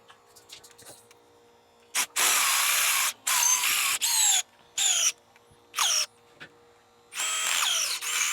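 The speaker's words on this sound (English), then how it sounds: "why is he drilling a hole in this block?" A power drill bores into the block of a Chrysler flathead 230 six-cylinder engine in a shop, with several loud bursts of whining drilling separated by short pauses and no talking.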